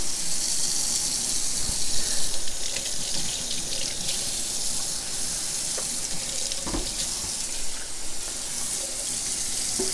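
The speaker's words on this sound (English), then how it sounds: "I am gonna dump this into the sink, and as recommended, I am gonna clean it out with a little bit of soap and water" Tap water runs steadily into a sink while a reverse osmosis filter housing (Apec Puroflo 5-stage system) is rinsed out, with a continuous close gushing stream, occasional splashes and clunks, and no voices.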